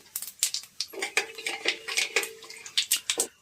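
A spoon stirs bay leaf, cumin and dried red chillies in a metal kadai, giving quick, repeated clinks and scrapes against the pan with faint sizzling, close and distinct.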